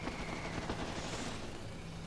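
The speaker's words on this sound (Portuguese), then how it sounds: "6 MiGs vieram por cima deles disparando seus canhões" Cannon fire from attacking MiG jet fighters over MiG Alley forms a dense, continuous rattle of rapid shots, loud and unbroken, with no speech.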